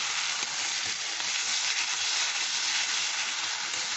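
Poppy seeds fry in a pan with a steady, dense hiss that stays even and close throughout.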